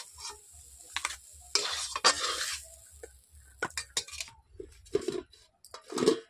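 Pea masala filling is stirred in a kadai, a spoon scraping and clinking against the metal in irregular strokes over a faint sizzle, up close with no voices.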